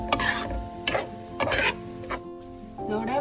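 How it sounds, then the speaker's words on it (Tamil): Spinach curry with thick coconut milk being stirred in a cooking pot: several distinct scrapes and knocks of the spoon, close and clear, over a low steady hum, with no voices. "சேர்த்துட்டு எல்லாத்தையும் நல்லா கலந்து விடுவோம்"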